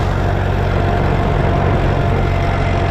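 A little red vintage tractor, put to work rolling, runs its engine in a loud, steady, close low throb with no pauses.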